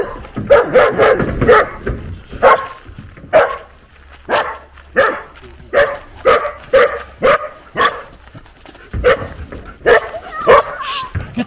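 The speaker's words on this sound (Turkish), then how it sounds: "İneği havlıyor." A dog barks repeatedly at a cow in a rural village setting, a steady run of loud, close barks and yips with short gaps between them, continuing for several seconds with no talk over it.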